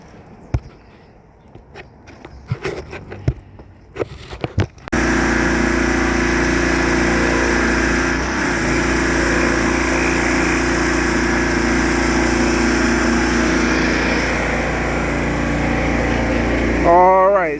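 An engine-driven machine used for wood fence cleaning starts up after a few seconds of clatter and footsteps, then runs loud and steady for over ten seconds, with a pitch change near the end.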